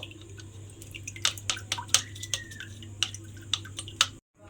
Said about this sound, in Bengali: সর্ষে পোস্তটা আমি এখানে ছেঁকে রেখে দিয়েছি